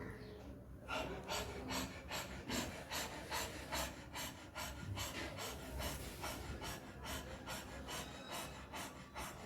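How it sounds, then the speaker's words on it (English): Fast, rhythmic breathing exercise with about twenty quick, even breaths in a steady pulse, close and fairly quiet. "you have to breathe it like this, fast breathing 20 to 30 times"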